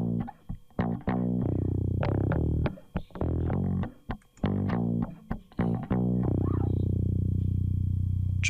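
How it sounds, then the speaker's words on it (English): Bass guitar run through a Presonus Red Light distortion plugin in Studio One: a series of gritty, distorted plucked notes in a choppy rhythm, ending on a long sustained note that rings out. "Let's see if I have any distortion plugins here."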